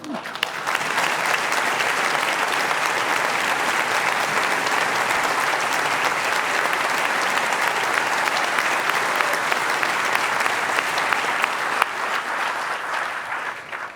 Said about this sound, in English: stand so we can give you all a round of applause